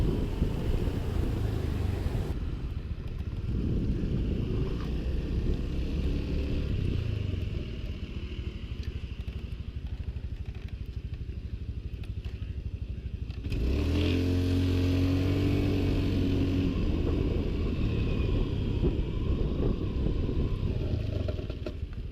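A motorcycle rides along in repeated front-brake practice passes. Its engine drones and rumbles steadily up close, then surges and revs louder partway through as the bike accelerates, with no talk over it.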